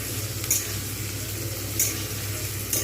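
Onions frying in a kadai for biryani beresta give a steady close hiss of sizzling oil, broken by occasional sharp scrapes or clinks of a spatula, with no voices.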